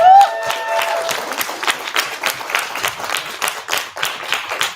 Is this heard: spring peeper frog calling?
no